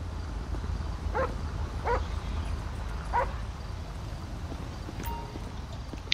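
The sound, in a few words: dog barking in a video game, GTA LSPDFR police dog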